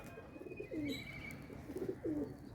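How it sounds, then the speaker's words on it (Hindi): A Salara Teddy pigeon gives two soft, rolling coos about a second apart, close by and fairly quiet, against light background noise. "संदूरी पलकों का टैडी कबूतर आया है, बड़ा शानदार कबूतर है, सलारा टैडी है।"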